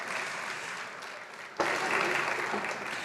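Audience applause at a school music showcase, a steady wash of many hands clapping that swells louder halfway through and continues, heard from within the crowd.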